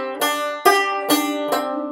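Bluegrass banjo plays a full measure as four bright, evenly spaced plucked notes ringing into each other, close and solo.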